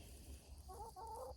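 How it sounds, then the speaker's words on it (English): A hen scratching near a compost pile gives two short, soft clucking bursts at moderate distance over faint background hum, with no talk. "She's one of Mr. Jack and I's favorite chickens."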